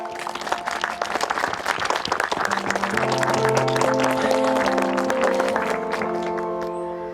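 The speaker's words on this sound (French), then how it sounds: "je vous demande d'applaudir chaleureusement les fées et Emilia Wood." A crowd applauds steadily, with a swell of clapping as sustained music rises underneath.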